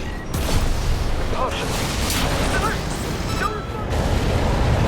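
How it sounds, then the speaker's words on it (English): Explosions rumble and crackle in the video game Armored Core VI, a dense, loud, continuous barrage of booms with no speech over it. "The explosions are insane."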